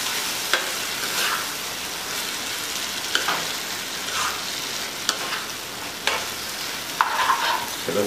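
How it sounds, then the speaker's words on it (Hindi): Fish curry simmering in a pan on low gas as coconut milk is stirred in, a steady soft sizzle broken by periodic scraping strokes of the spoon roughly once a second, close and moderately loud with no talking. "गैस को स्लो करके नारियल का दूध को इसमें मिक्स करेंगे"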